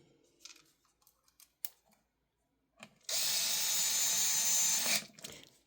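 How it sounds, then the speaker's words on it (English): A power driver runs in one loud, steady two-second burst while screws go into a grinder motor during a belt and grinding wheel replacement, preceded by scattered quiet clicks and handling taps and followed by a few small knocks. "Then I like to put these screws in first."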